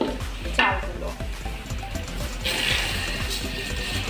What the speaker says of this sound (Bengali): এখন পেঁয়াজটা হালকা সফট হয়ে আসা পর্যন্ত ভেজে নিচ্ছি